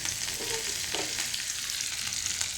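A tempering of cumin, two red chillies, curry leaves and coriander crackles in hot oil, a dense, even hiss with small pops, close and continuous throughout.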